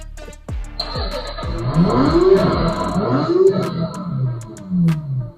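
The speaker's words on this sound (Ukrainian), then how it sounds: "Мотоцикл заводиться з кнопки з реалістичним звуком мотора." A Bambi Racer M 6273EL children's electric toy motorcycle plays its button-activated engine sound: a few sharp starter clicks, then a loud synthetic roaring rev that rises and falls in waves, close and alone.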